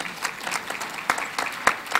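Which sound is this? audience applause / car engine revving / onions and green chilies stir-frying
audience applause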